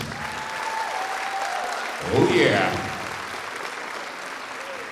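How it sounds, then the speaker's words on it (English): Audience applause for scholarship students at an education foundation awards evening, a soft, steady spatter of clapping throughout, with a brief voice exclaiming in the middle. "So how about a round of applause for our students?"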